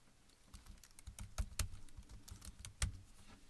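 Quiet, close typing on a computer keyboard, a steady run of light key clicks with a few sharper, heavier strikes, heard alone with no voices.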